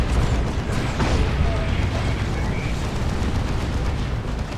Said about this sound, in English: Rocket run now from Hellion.